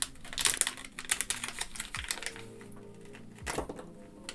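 A LEGO Star Wars minifigure mystery bag is torn and crinkled open up close, with rapid crackling plastic rustles in bursts, a couple of soft thumps, and quieter fumbling between them.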